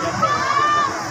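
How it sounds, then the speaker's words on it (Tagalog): A bird passes overhead during a night drone light show, giving one drawn-out honking call that stays fairly clear above low crowd murmur. "May ibon dumaan."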